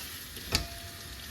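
Chopped artichokes fry in olive oil in a pot, a soft steady sizzle with a brief stirring clatter partway through.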